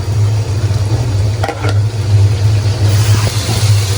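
Ground onion paste hits hot oil in a pan, setting off a loud, steady close sizzle that carries on continuously with a low frying rumble beneath it.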